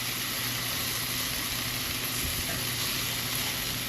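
Thick meat searing on a portable collapsible grill in a backyard, a steady close hiss and sizzle continuing evenly throughout with no talk.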